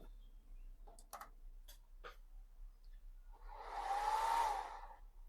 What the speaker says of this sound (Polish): Wentylator się uruchomił na maksa, zwolnił. Powiem Ci, że wcale cichy nie był.